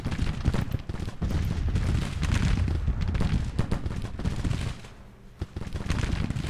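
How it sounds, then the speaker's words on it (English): Dense volleys of massed musket and artillery fire from a Civil War battle in the strategy game Grand Tactician: The Civil War, loud and continuous crackling, with a short lull near the end. "Starting to get some flanking shots on the enemy there"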